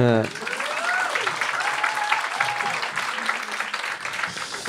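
Audience applause during a French talk podcast: a continuous patter of clapping runs throughout, moderately loud, while a voice speaks over its opening seconds.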